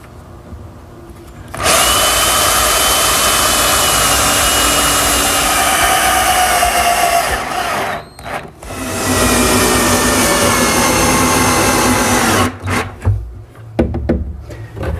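A power driver drives screws into a wooden toe kick for a laundry center, giving a loud, sustained whine for several seconds, a short break, then another long run and a few brief bursts.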